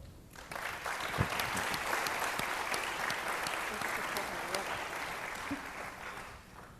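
An audience at a panel on Thoroughbred care applauds to welcome speaker Ed Bowen, a dense, steady roar of many hands clapping that holds for several seconds and then tapers off.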